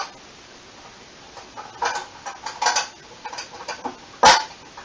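A metal gun case lid closes and its lock is clasped, giving scattered clanks and rattles that end in one sharp, loud metallic click near the finish.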